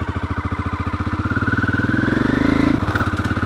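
A Pegaso motorcycle ridden along a forest track, its engine droning loudly and steadily up close with a rhythmic pulsing note that rises slightly before easing back.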